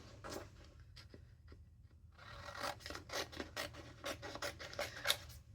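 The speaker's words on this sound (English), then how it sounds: "I can use some scissors and just cut this out." Scissors cut out a sublimation print meant for canvas, making quiet, close rasping snips in irregular bursts that grow busier partway through, with no talking.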